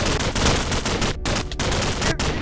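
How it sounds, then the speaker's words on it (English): Dense bursts of machine gun fire in a Minecraft zombie apocalypse game, loud and continuous with a few short breaks between volleys. "Oh, they got some machine guns."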